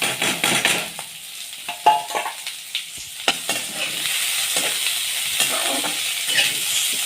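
Green chilies and garlic fry in a pan with a steady hiss, interrupted by sharp clinks and scrapes of a spoon stirring against the metal, the sizzle broadening and settling into a continuous bright crackle.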